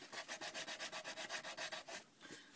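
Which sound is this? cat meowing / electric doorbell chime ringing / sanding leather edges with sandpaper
sanding leather edges with sandpaper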